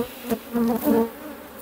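Honeybees fly in front of a hive during a heavy nectar flow, giving a short, fairly close buzzing hum that swells in a few brief pulses and then fades, with no voices.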